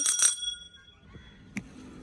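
Two quick bright rings of a scooter's bell, loud and close, followed by quiet with a faint click near the end.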